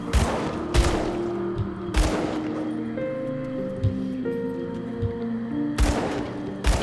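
Rifle fire from a Soldier character in the action RPG Grim Dawn: loud broadband shots at about one-second intervals in two groups, near and sharp, over a steady tonal game music bed and battle ambience, with no talk.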